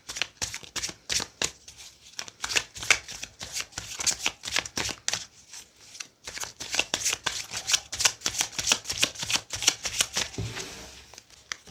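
Oracle cards being shuffled by hand, a rapid, close series of crisp papery riffles and slaps in uneven bursts, with a short pause midway and no talking.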